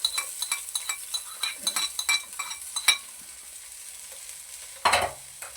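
Onion frying in ghee in a pan, with repeated scraping and clinking of a spoon as it is stirred, then a quieter sizzling stretch and a final burst of louder stirring near the end.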